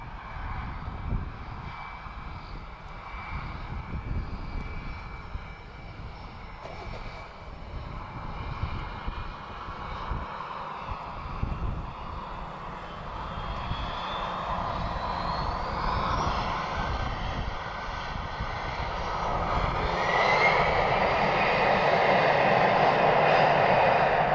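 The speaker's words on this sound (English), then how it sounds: "A320, operated by EasyJet Switzerland." An EasyJet Switzerland Airbus A320 at Lisbon Airport, its engines a steady distant roar that gradually builds louder toward the end, with a rising whine.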